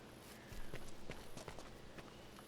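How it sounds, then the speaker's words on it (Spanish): Footsteps in the survival video game The Parasites, a run of short distinct steps heard inside a tower amid steady ambient background noise, fairly close, no talking. "Oigo unas pisadas."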